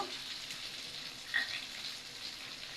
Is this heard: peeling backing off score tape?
no